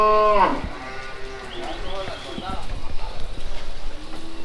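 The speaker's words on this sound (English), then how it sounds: "It's also cattle." A cow lowing loudly close by on a Costa Rica farm, one drawn-out moo at the start, followed by quieter farm ambience and people talking.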